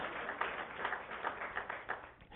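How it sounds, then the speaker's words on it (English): Applause at a school board meeting for a national powerlifting winner, a faint, muffled run of hand clapping from a room crowd, steady and brief. "So he deserves a big round of applause, too."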